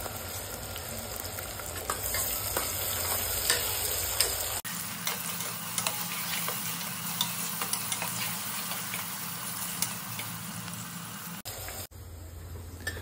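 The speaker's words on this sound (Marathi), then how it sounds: "ते कांदा कापून घेऊन त्याच्यामध्ये फ्राय करून घ्यायचं या तेलामध्ये" Cut onions frying in oil for an egg biryani, a steady crackling sizzle with frequent tiny pops and ticks, close and even, dipping briefly twice as the sound cuts, with no voices.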